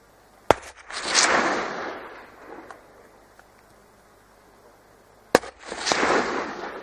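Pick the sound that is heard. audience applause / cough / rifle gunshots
rifle gunshots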